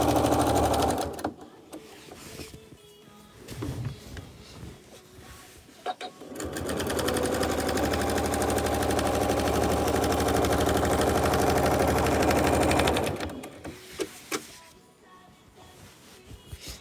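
Sewing machine stitching during machine quilting, running in a long continuous loud whir for several seconds, framed by shorter bursts of stitching and pauses at the start and end.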